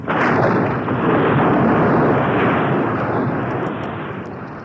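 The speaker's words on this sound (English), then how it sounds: "The ground heaved and the stone rolled back, leaving Aladdin trapped in the cave." Heavy rumbling of ground heaving and a great stone rolling back to seal a cave, a dense, loud, continuous roar that holds steady, then slowly fades toward the end.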